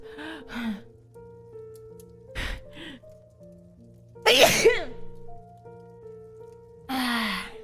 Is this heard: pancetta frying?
no